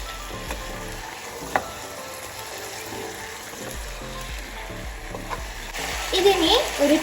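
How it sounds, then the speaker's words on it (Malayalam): Chicken pieces fry on a high flame for chicken majboos, giving a continuous close sizzle with intermittent stirring scrapes, growing louder and more bubbly toward the end. "ഇതിനി ഒരു 2 മിനിറ്റ്സ് ഹൈ ഫ്ലെയിമിൽ ഇങ്ങനെ കുക്കാവട്ടെ."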